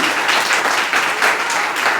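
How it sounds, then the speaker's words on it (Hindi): Loud, dense applause from a seated audience at a marketing-plan seminar, a short continuous burst of many hands clapping. "एक बार पुराने दोस्त के लिए जोरदार तालियां।"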